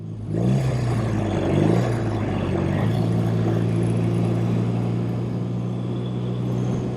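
A 1971 BMW R75/5 motorcycle engine idles with a steady low hum and is revved, briefly rising in pitch near the start before settling back to a smooth idle, close and continuous.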